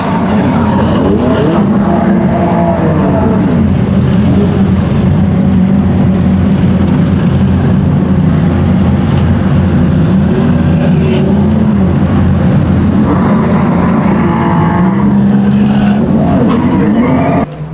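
Race cars lapping the Le Mans Cup circuit during free practice, heard from the paddock as a loud, continuous engine roar with rising and falling revs and passing cars throughout, with no talking.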